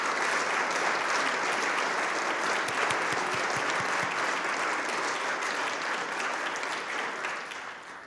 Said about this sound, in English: So could we please take a moment and applaud Dr.